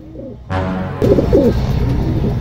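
A racing pigeon coos close by in a few soft, throaty bursts, the second phrase louder and longer, with some background noise behind it.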